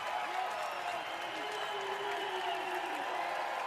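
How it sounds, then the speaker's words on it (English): Arena crowd at a James Madison women's basketball game in the Atlantic Union Bank Center cheering and applauding as a steady wash of noise while a commentator talks over it. "the crowd on their feet here inside the Atlantic Union Bank Center"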